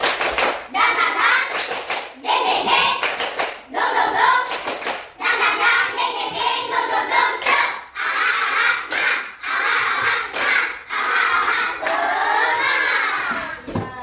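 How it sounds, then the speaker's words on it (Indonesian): A school class performs a rhythmic spirit clap, many hands striking in patterned bursts with brief pauses between, loud and close, with children's voices chanting along. "Yuk kita mulai 1, 2, 3. Tepuk semangat."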